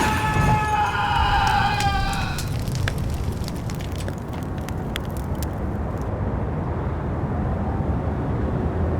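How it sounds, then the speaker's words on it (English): In the video game Max Payne, police car sirens wail over a roaring storm. The siren tones show clearly at first, then fade within a couple of seconds into a steady rumble of wind and rain. "The storm was a screaming duet with the approaching prowl car sirens."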